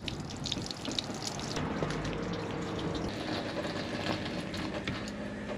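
Water runs steadily through caravan taps as the water system is flushed after a Puriclean cleaning treatment, a soft continuous rushing and splashing with no talk.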